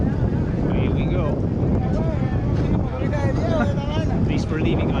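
Speedboat engines droning steadily on open water between Buenaventura and Juanchaco, heard from the rear near the motors, with heavy wind buffeting and a loud, continuous wash throughout.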